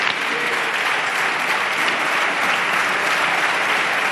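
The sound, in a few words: Socialist parliamentary group applauding Pedro Sánchez in Congress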